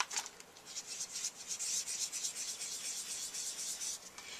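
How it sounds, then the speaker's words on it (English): An electric eraser rubs on paper over chalk and pastel work, giving a quiet, buzzy scratching in short bursts that blend into a continuous faint rubbing. "I have my handy dandy electric eraser."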